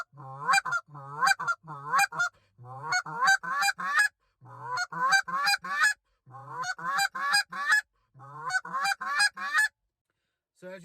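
Goose call blown in a basic double cluck, a quick two-note honk repeated in rhythmic bursts of three to four, shifting between low and high notes, loud and close with short pauses between series.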